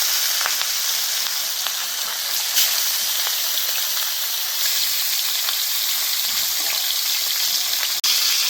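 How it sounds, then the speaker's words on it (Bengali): Rohu fish frying in mustard oil in a hot kadai, a steady hiss and sizzle with faint crackles and a couple of sharp pops, continuous and close with no voices. "আস্তে আস্তে মাছটা ভেজে নেবো লাল করে।"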